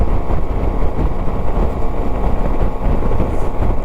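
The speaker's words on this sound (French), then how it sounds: "il y a un sacré vent quand même" Loud, continuous buffeting of strong wind battering the microphone of a rider on a 125 Varadero motorcycle, a rough low roar with constant gusty fluctuation.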